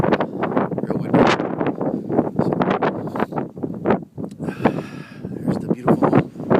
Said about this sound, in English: You can just hear the wind in the entrance here.